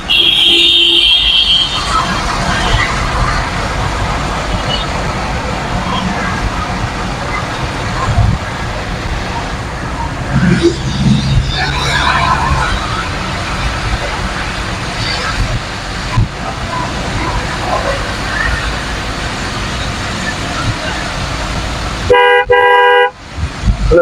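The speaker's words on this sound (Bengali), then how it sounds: "রাস্তায় প্রচুর পরিমাণে জ্যাম" Congested road traffic on a highway after rain rumbles with engines idling and moving, while car horns toot repeatedly, including a sharp burst of honking near the end.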